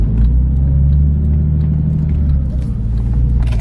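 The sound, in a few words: Porsche 996 valved exhaust in loud mode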